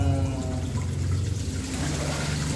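Water trickles and pours steadily into a swimming pool pump housing to purge trapped air, a close continuous liquid splash with a low hum underneath, and no one talking.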